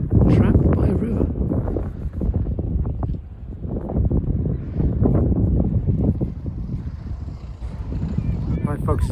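Strong, cold wind buffeting the microphone beside a river, a loud continuous roar with gusting swells and rumbling low-end thumps, no speech.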